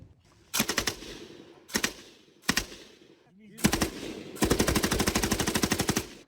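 Loud bursts of machine gun fire, several short volleys followed by a longer sustained burst, close and sharp.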